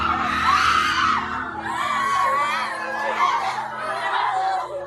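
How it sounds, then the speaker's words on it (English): Schoolgirls scream at a school assembly. Several high piercing shrieks rise and fall over a crowd murmur, and the wailing overlaps without pause for the whole stretch. "the quiet in the air was suddenly shattered by a schoolgirl's piercing scream"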